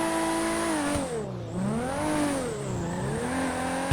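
A Toyota Supra in the video game GTA 5 revs hard with wheelspin: a loud, sustained engine roar that rises and dips in pitch as the tires break loose, close and continuous with no talk.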